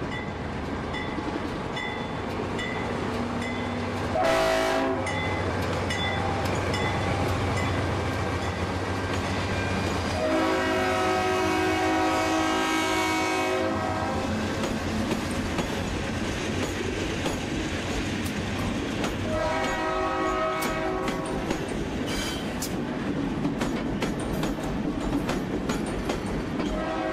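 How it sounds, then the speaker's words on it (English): A train rumbles past in Lafayette with clattering wheels while its horn sounds in several long blasts, loud and close. "This train is now heading northwest to Chicago."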